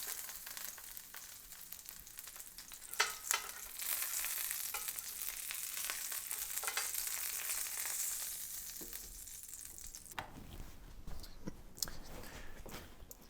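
Beef short ribs sizzle and fry steadily in a hot pan, a dense crackling hiss with occasional louder spatters and scraping stirs, quieter and more scattered in the last few seconds.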